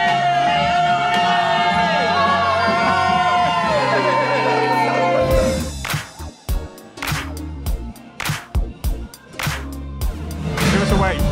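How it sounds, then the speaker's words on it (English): A crowd aboard the Sun Princess cruise ship on its maiden embarkation day from Rome. Sustained tones give way to loud cheering, whoops and bursts of clapping, mixed with nearby voices. "I can hear clapping and cheering."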